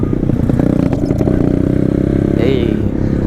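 Pit bike engine revving loudly and steadily while riding outdoors on a cold morning trail, with rattling clatter and a short higher whine near the end.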